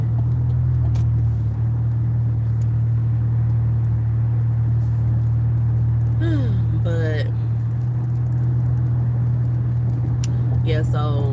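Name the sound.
car driving, interior road noise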